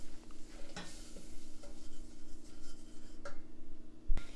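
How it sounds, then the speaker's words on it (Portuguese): Flour being cooked into melted butter in a pan while stirred, a soft low sizzle with scraping spoon strokes and a few sharper clinks near the end. "Tem que cozinhar essa farinha com a manteiga."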